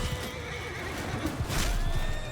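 Horses in Mount & Blade II Bannerlord give a loud, close neigh and whinny, a rising and falling whine over steady battle din, with a second call overlapping near the end.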